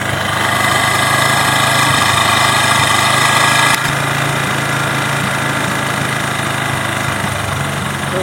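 Engine runs steadily throughout while its carburettor is tuned, a dense mid-pitched drone with a slight shift in tone partway as the rpm drops, loud and close with no talk.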